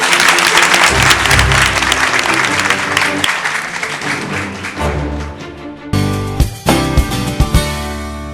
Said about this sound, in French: Je vous demande d'applaudir et de recevoir vos candidats.